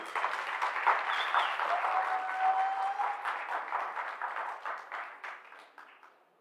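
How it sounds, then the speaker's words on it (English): An audience at a stakeholders conference breaks into dense, sustained applause that fills the room, then gradually thins and fades over several seconds. "Please make a noise and a round of applause for Mr."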